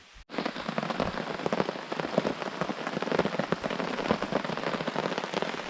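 Heavy rain pours down steadily during a paddling trip in the Adirondacks, a dense, continuous patter that starts abruptly and stays loud throughout.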